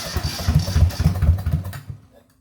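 A 1980 Yanmar YM1500 tractor diesel engine cranks in a fast, lumpy chug for about two seconds, close and loud, nearly catching before it cuts to silence.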